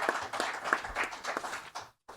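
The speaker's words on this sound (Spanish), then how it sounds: "Le damos un fuerte aplauso y lo recibimos." Audience applause welcoming a speaker at a lecture on science and ethics, a moderate round of scattered claps that cuts off abruptly near the end.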